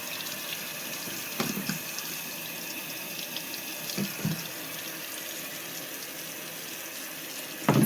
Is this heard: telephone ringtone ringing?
no